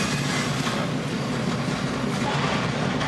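An Arkansas & Missouri Railroad passenger train rolls downhill on its rails, giving a steady, close rumble with a continuous wheel-on-rail roar and no voices.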